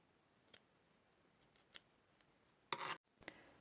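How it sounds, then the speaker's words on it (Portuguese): Scissors snip a piece of yarn after crocheting amigurumi, a few faint clicks followed by a louder close crisp cut and a quick final snip in a quiet room. "Posso cortar um pedaço de fio."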